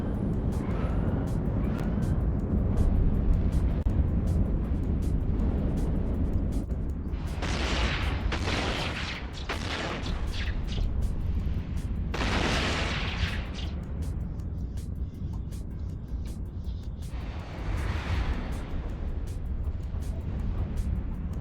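Ship weapons fire in a space video game during an electrical abyss run, heard as repeated bursts of heavy booming volleys over a constant low rumble, with gaps of steady drone between them.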